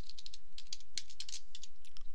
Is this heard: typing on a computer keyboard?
yes